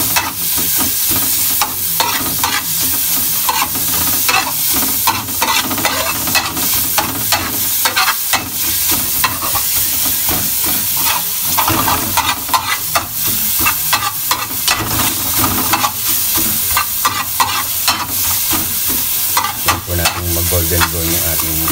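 Garlic sizzling loudly as it fries in a pan, with constant scraping and stirring strokes over a steady crackling hiss, close and continuous throughout with no talking.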